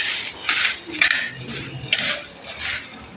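Metal cutlery clinks and scrapes against a plate during breakfast, close and fairly loud, in short repeated bursts with brief pauses between.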